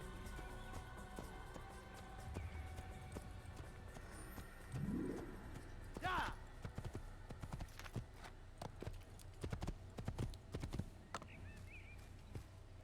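Horse hooves clip-clop steadily in the video game Assassin's Creed, a quiet regular trotting rhythm set against soft bird coos and chirps in a calm outdoor scene, with no talking.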